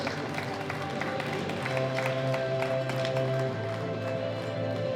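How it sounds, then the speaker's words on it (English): Audience applause at a world classic powerlifting championship honoring the best overall deadlifters, a dense, steady patter of many hands clapping in a hall, with a low hum beneath. "So a big round of applause, ladies and gentlemen."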